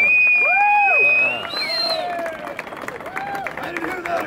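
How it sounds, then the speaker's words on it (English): An outdoor crowd at a 2015 Police Unity Tour event cheers and applauds, with loud whistles and voiced whoops rising and falling over steady clapping and crowd noise. "can we give John Mel a round of applause"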